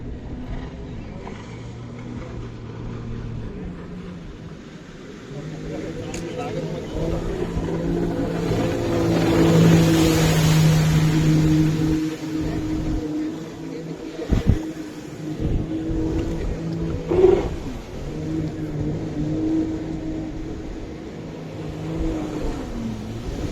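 A water scooter runs on Tehri lake, its engine droning steadily and rising in a loud swell midway, with wind and water noise and some brief talk underneath.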